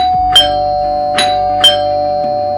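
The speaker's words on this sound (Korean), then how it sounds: "갑자기 친구네 집에 초인종이 울렸다" A house doorbell rings in a narrated story, three bright ding chimes spaced about a second apart over a steady electronic hum.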